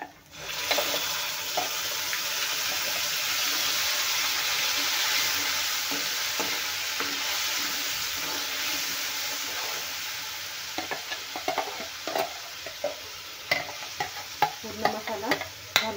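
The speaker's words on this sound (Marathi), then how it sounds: "आता आपण जे वाटलेला मसाला आहे ते घालून घेऊया." Ground masala paste stirred into a hot pan after asafoetida, sizzling and frying loudly and steadily, with scraping stir strokes and clinks growing sharper toward the end.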